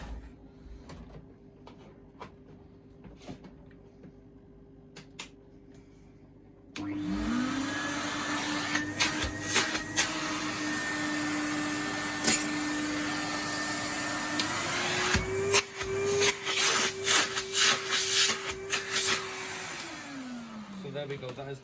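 A Numatic Henry Compact HVR160 vacuum cleaner with a new hose switches on after a quiet stretch with clicks, rising into a loud steady whine, shifting pitch briefly as suction changes, then winding down at the end.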